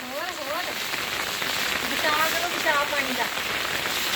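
Steady rain patters on a surface as a continuous hiss, with faint voices and bird-like chirps drifting through in the background.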